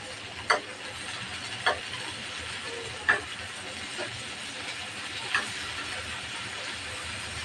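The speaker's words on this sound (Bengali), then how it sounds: "মাছগুলো এক পাশ ভাজা হয়ে গেছে," Fish fry in a pan after being turned over, a low, even sizzle with a handful of sharp little pops or clinks at irregular intervals.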